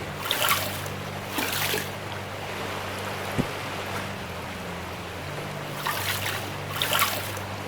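Water sloshing and splashing as mats are washed out with a bucket in the Gold Rush video game, broad watery rushes swelling at the start and end over a steady low machine hum.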